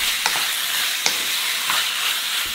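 Pork for spicy stir-fried pork with garlic and pepper sizzles loudly in a hot pan, a steady close hiss with a few sharp crackles and stirring clicks, no voices.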